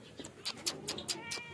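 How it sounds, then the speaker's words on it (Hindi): A cat meows repeatedly in short, fairly quiet calls, about six in quick succession with brief gaps between them, as cats are let out and fed milk and cat food. "अब हम बिल्लियाँ खोलते हैं, उन्हें दूध और कैट फूड डालते हैं जी"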